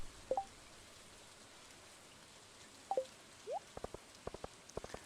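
Rain in Stardew Valley falls as a faint, steady patter, with a few sparse droplet plinks and small chirping tones scattered on top.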